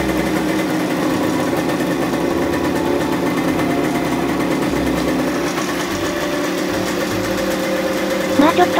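An old Suzuki T125 Wolf motorcycle, with its electrics converted to 12V, idles at slightly raised revs. Its engine putters steadily and loudly, close by, throughout.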